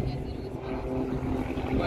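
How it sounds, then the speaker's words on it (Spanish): Small propeller plane flying over an agricultural machinery expo in Argentina, a steady droning engine hum under nearby talking. "Ahí anda de vuelta una avioneta."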